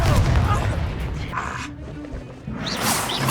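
A Confringo explosion spell in Hogwarts Legacy lands as a dense, loud burst of crashing, whooshing combat noise, fading briefly before another flare at the end.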